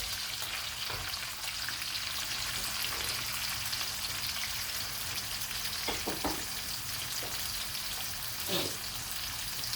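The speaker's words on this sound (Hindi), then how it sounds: "अब हम ऑनियन को तकरीबन लाइट गोल्डन कर लेंगे, ज़्यादा ब्राउन नहीं" Finely chopped onions sizzle steadily in hot oil while cooked for chicken keema with peas, a continuous close frying hiss with occasional stirring clicks and faint talk in the background.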